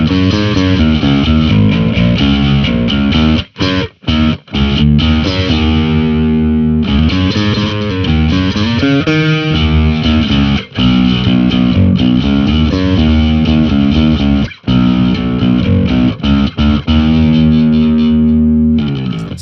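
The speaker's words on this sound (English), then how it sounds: "So that's a little bit of a smoother bass tone." Distorted, effects-laden bass guitar riff through a Valeton GP200R amp modeler, playing loudly and continuously, with a few short pauses between phrases and no voices.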